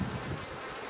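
Honey bees buzzing around an open hive during an inspection, a continuous loud close drone with no voices.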